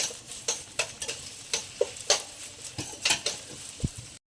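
Green chillies fry with ginger-garlic paste in a pan for Gobi Manchurian, quiet sizzling under a run of sharp, irregular spoon clicks and scrapes against the pan.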